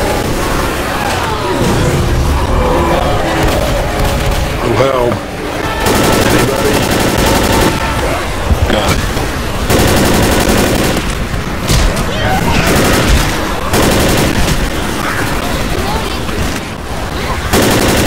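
Dense, continuous automatic gunfire from the zombie shooter Left 4 Dead, loud and close with rapid overlapping shots and booms, mixed with shouted voices throughout.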